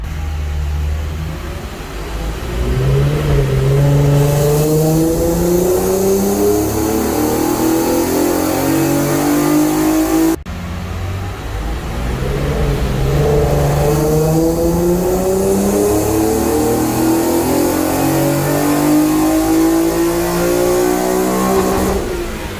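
A tuned car engine revs through two full acceleration pulls on a freshly fixed idle, each one a loud rising howl that climbs steadily before cutting off, with no talk over it.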